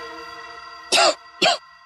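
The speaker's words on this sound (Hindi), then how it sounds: "ये कोई आम खांसी नहीं, टीबी वाली खांसी है।" Two sharp coughs from tuberculosis in quick succession, close and fairly loud, over a steady droning hum with no talking.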